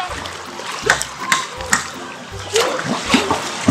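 Water splashes in a swimming pool in repeated bursts, several close, loud splashes in an irregular rhythm, with voices of people talking and calling out around them.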